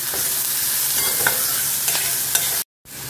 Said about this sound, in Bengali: পেঁয়াজটাকে খুব ভালো করে একটু ভাজতে হবে